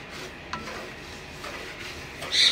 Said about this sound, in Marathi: रवा पूर्ण रंग चेंज होईपर्यंत, म्हणजे पूर्ण गोल्डन ब्राऊन होईपर्यंत परतून घ्यायचं असंच तुपामध्ये.